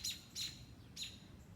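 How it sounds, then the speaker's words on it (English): Garden birds near a nest give three sharp, high chirps in quick succession, close and fairly clear over a quiet outdoor background. "The birds are going crazy."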